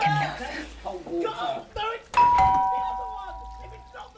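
A front doorbell gives a single ringing ding-dong chime that rings on and fades out slowly, heard just after people talking in a family home.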